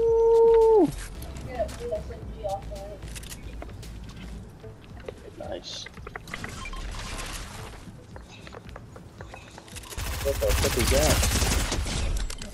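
Rapid SMG gunfire in Fortnite Zero Build, with bursts of shots and game effects behind excited player chatter; the loudest, densest firing comes near the end of the stretch.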